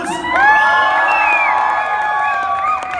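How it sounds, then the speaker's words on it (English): A live-performance crowd at a mall event in Gurugram cheers and whoops loudly and steadily for about three seconds, a dense wash of voices with scattered shouts rising above. "A huge applause."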